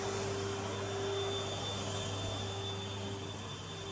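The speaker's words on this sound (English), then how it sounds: "I'm going to have to move the cable on the vacuum cleaner." Henry extra-large vacuum cleaner running steadily nearby with a constant whooshing airflow roar and a low motor hum, no speech.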